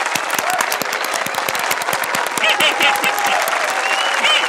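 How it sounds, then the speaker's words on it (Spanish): Lively crowd applause for a cartoon duck's dance, dense steady clapping that carries on throughout the short stretch, loud and close. "¡Aplaudamos todos el fantástico baile de Pato!"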